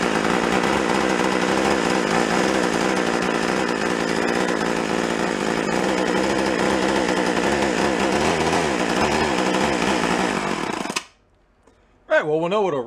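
An antique gas-powered drill engine, choked, with a cracked fuel line, runs loud and steady with a rough buzzing chatter for about eleven seconds, then cuts out abruptly, followed by a short burst of faint noise.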